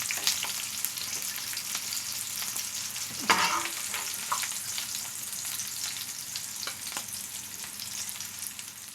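Food, with marinated squid, broccoli and white onion among the ingredients, sizzles steadily in a hot frying pan, a close crackling hiss punctuated by a few sharper bursts from stirring.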